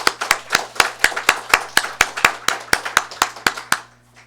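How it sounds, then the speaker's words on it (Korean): A church congregation at a Sunday worship service claps together in an even, steady beat, about four sharp claps per second, loud and close, ending abruptly. "우리 이들을 축하하는 마음으로 함께 박수 한번 부탁드립니다."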